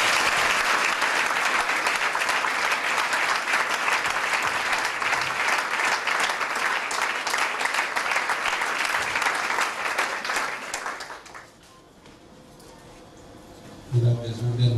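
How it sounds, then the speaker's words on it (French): A church congregation applauding to acclaim the Lord during a deliverance service, loud dense clapping for about ten seconds, then fading to quiet murmurs with a brief noise near the end. "Acclamons le Seigneur."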